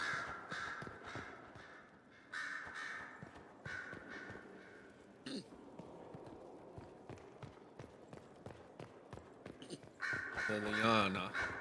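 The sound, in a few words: crows cawing loudly in Dragon Age Inquisition video game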